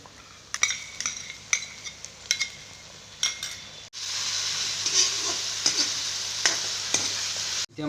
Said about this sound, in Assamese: এতিয়া মই ইয়াত পিহি থোৱা আদা আৰু ৰচুনৰ পেষ্টখিনি দি দিছোঁ